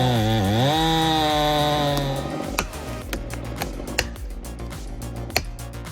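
Chainsaw engine revving and cutting into a large tree trunk, a loud pitch-bending whine that settles into a rough idle, then sharp cracks and thuds of wood splitting at close range.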